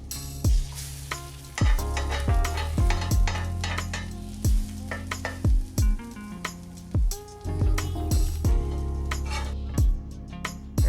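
An egg fries in a pan with salt and pepper and gets flipped over easy, a steady sizzle broken by repeated sharp spatula scrapes and clanks against the pan, close and fairly loud.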